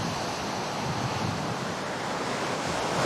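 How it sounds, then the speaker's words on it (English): Waves break on the beach at Bronte with a rising swell at low tide, a dense, loud roar of surf mixed with wind buffeting the microphone, continuous and with no voices. "the waves are real close together"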